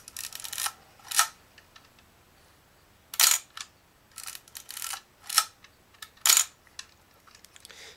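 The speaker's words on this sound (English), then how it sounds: "let's speed up the shutter to full speed and see how that works." A series of sharp mechanical shutter clicks from a Vivitar 250/SL camera firing at full speed, about eight, spaced irregularly with brief pauses, crisp and close in a quiet room.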